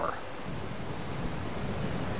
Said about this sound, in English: Can't believe it's actually raining here on Frontier.